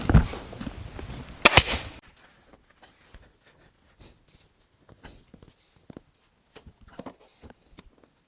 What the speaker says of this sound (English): I'm going to put one staple in there, one under here.